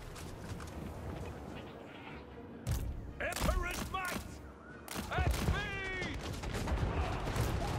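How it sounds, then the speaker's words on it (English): Troops fire guns in a Total War Warhammer 3 battle, with irregular sharp volleys and cracks scattered over a busy battlefield din, mixed with brief voice lines. "Yes, my troops shoot."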